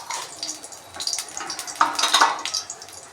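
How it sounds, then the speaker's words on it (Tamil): Spices being tempered in oil in a pan for mint chutney crackle and spatter in short bursts, with light clinks of metal on the pan. The sound is close and fairly quiet. "இது வந்து புதினா துவையலுக்கு தாளிப்புங்க"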